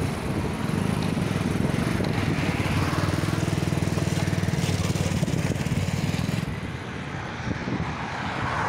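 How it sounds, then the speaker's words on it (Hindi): Tractor engines idling in a queue at a sugar mill, a steady low diesel rumble with some chugging throughout, fairly close and continuous, easing slightly near the end. "लाइन में लाग रहे हैं सारे ट्रैक्टर।"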